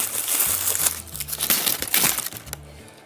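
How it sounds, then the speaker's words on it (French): Paper wrapping around a nail polish bottle crinkles and rustles as it is handled up close, in irregular bursts of crackling with brief pauses between them. "c'est dans un papier comme ça, je suis désolée pour le bruit"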